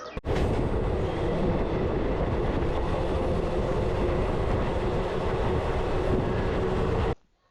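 A passenger train runs near Sainthia station on the way to Rampurhat, heard from on board as a loud, continuous rumble and rattle that holds steady and then cuts off abruptly near the end.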